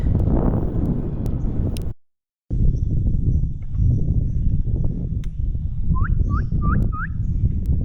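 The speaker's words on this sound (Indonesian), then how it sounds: "Masih banyak sekali suara burung berkicau teman-teman." A few short bird chirps ring out in a quick series over a loud, rumbling background of road or vehicle noise.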